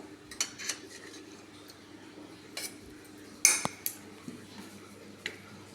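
Utensils clink and tap lightly against Healux cookware as a piece of steamed fish is lifted out, with a few sharp metallic clicks scattered over a quiet background, close by and no talking.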